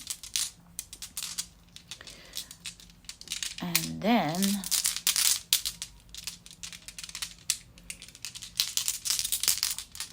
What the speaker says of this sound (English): what I like to do is shuffle your zodiac signs around really well